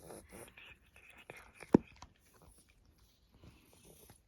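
A ginger cat bites off grass outdoors at a summer country house, making one sharp, close snap in the middle, with faint background noise and soft murmuring around it.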